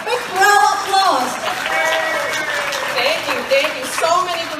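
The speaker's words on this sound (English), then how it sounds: "Everybody, if you agree, please give us a big round of applause." Applause from an audience at a Vietnamese community gathering, broadband clapping holding steady throughout with voices and a tonal voice-like line running over it.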